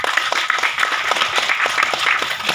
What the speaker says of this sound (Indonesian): Sekali lagi tepuk tangan untuk MATC.